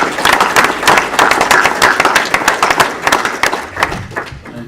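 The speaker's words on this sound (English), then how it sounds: "So I think perhaps we give them a round of applause first." A smaller audience at an insurance institute Q&A event claps for the organisers, with distinct individual hand claps in a lively, uneven rhythm, fairly close and loud, tapering slightly toward the end.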